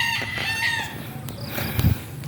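A rooster crows with a long, rising-and-falling call, fairly close and loud, followed by a faint clucking murmur from other fowl.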